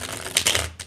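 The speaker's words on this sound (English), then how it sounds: "Let's go ahead and shuffle these again." Tarot cards being shuffled by hand, a few quick riffling bursts of papery flutter close up, with no talking over them.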